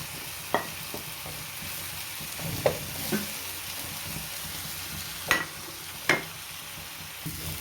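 Chili and turmeric powder fry in a pan for chicken curry, a soft steady sizzle broken by several sharp scraping clacks as a spoon stirs the mixture, fairly close and fairly quiet.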